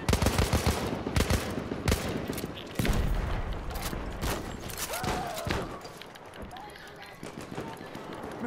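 Machine gun fire in a video game, sharp bursts of rapid shots cracking out in clusters, loud at the start and then trailing into scattered shots with footsteps and other game noise, while people talk over it.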